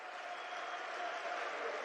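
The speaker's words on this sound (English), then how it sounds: "Big effort and a big round of applause there from" Fans of Doncaster applaud in a rugby league stadium during a Championship match, a soft, steady patter of distant clapping lasting under two seconds.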